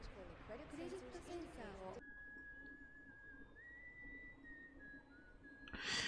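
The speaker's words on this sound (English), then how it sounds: "It's a very calming whistle." Calm, steady whistled melody from the anime Cowboy Bebop, a single sustained tone that glides slowly in pitch. It follows a burst of speech and background music, and a louder noisy burst comes at the end.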